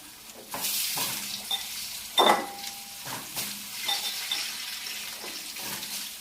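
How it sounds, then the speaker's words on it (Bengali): Potato pieces fry in a pan after eggs, a soft sizzle under the repeated scrape and knock of a spatula stirring, with one louder clatter midway. "এবার একটু আলুটা ভেজে নিচ্ছি।"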